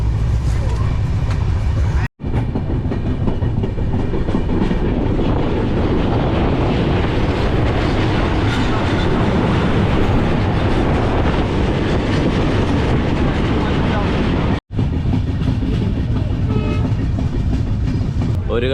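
A passenger train compartment on a long-distance journey from Kerala to Assam rumbles and clatters steadily and loudly throughout. The noise drops out briefly twice, and indistinct voices blend into the din.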